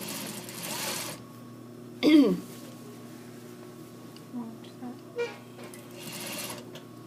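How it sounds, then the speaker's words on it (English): A sewing machine stitches fabric over pins in two steady bursts of running, one at the start and one at the end, with a few soft clicks and handling noises in the quiet stretch between. "this whole idea with sewing over pins, you got to be careful about that"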